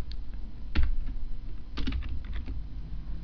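Computer keyboard typing PHP code, with a few scattered soft keystrokes and then a quicker burst of clicks, close and fairly quiet.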